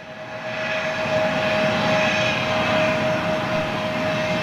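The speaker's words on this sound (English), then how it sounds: "Little Embraer." A small Embraer jet airplane near Manchester Airport roars steadily and loudly, a broad continuous engine rush with a faint tonal whine that holds for several seconds, with no voices.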